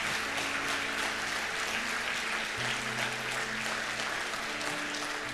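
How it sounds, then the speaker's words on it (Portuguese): A church congregation applauding after a prayer, a steady wash of many hands clapping together that fills the room from start to finish, with a sustained low organ or keyboard tone underneath. "Pode aplaudir ao Senhor."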